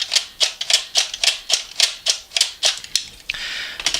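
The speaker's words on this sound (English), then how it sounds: "the pusher hits against the inside of the magazine and sounds like this" A Nerf Strife blaster's pusher strikes the inside of an old N-Strike magazine, making a rapid series of sharp, close, plastic clacks in an even rhythm of about twelve hits. The clacks end in a short whirring buzz.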